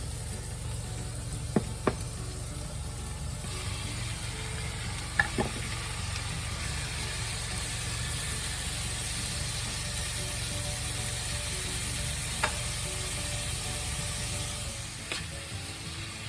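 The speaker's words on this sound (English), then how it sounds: "I want to get my onions and squash a little brown." Onions and squash fry in a pan with a continuous soft sizzle, broken by a few sharp clicks and scrapes of stirring; no voices over the steady hiss.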